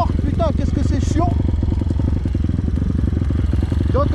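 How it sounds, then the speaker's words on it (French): Kawasaki KLX 160 motorcycle engine idling while running too rich, a loud, steady, slightly uneven near thrum that continues throughout, alone. "Donc là ce qui se passe c'est qu'elle est beaucoup trop riche la moto."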